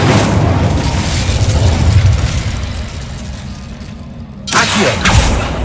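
A fire spell explodes in Hogwarts Legacy with a loud, dense roaring blast that fades slightly, then a fresh burst erupts near the end, with no voices.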